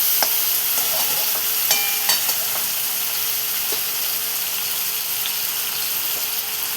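Soaked moong dal and chopped onion sautéing in a pan give a steady, loud sizzle with occasional scraping stirs and light clinks throughout.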